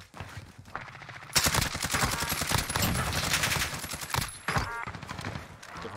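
Gunfire in the Warzone video game: loud, dense rapid bursts of shots that run almost without pause through most of the stretch, with a short break before more firing.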